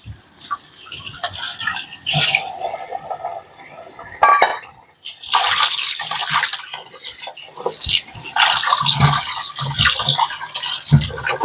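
Small anchovies swished and rinsed by hand in a bowl of water in a home kitchen, with continuous splashing and sloshing, scattered clinks against the dish, and brief pauses, close and fairly loud.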